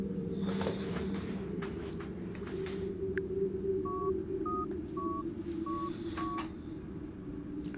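A telephone is dialed: five short, clear keypad tones beep in quick succession over a low, steady background hum in an indoor scene.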